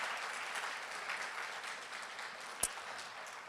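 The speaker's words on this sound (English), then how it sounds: "Another round of applause for our student speakers" Audience at a university graduation ceremony applauds student speakers, a soft, distant wash of steady clapping from a hall with one sharp knock or clunk near the end.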